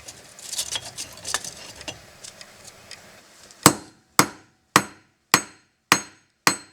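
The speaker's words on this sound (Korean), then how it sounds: "굳이 고집스레 전통 방식대로 두드리고 또 두드린다." A brass bangjja spoon hammered by hand in the traditional way. A busy patter of lighter taps gives way to six sharp, ringing metallic blows struck at an even, deliberate pace, close and clear.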